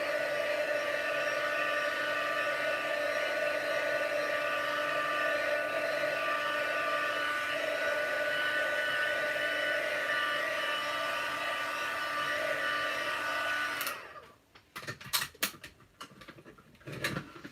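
Dryer blowing on freshly stamped ink, a steady whirring drone for about fourteen seconds that then cuts off, followed by a few faint clicks and handling sounds.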